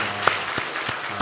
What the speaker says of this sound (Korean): 우리 존경의 마음을 담아서 큰 박수로